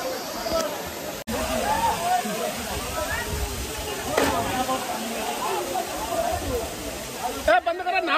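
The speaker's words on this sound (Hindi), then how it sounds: "पानी झरना गिर रहा है ऊपर से नीचे को।" A waterfall at Khatima with people bathing beneath it gives a dense, steady roar of falling and splashing water close by, with a few sharp clicks and faint voices mixed into the rush.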